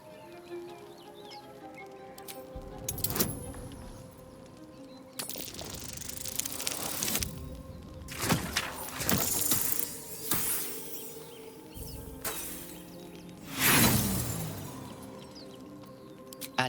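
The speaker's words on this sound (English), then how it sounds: "Agitated clacking chokes your thoughts." Agitated spiders in Baldur's Gate III make irregular clacking and skittering bursts over a low ambient bed, with sharp clicks and scraping swells scattered unevenly across the stretch.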